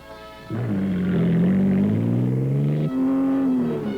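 Off-road race car engines from 1968–69 Ford racing rev hard and close, a rising, buzzing roar that climbs, dips briefly near the end, then surges again, with no voices over it.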